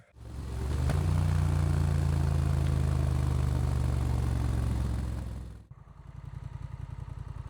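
A Honda Rebel 1100 motorcycle with a new aftermarket exhaust runs close by, holding a loud, steady engine drone for several seconds before cutting back to a lumpy, throbbing idle.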